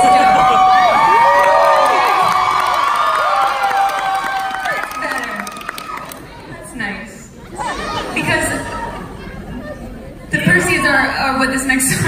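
Concert crowd at an acoustic show in Vancouver cheering and whooping loudly, with shouts and chatter, fading down then swelling again near the end.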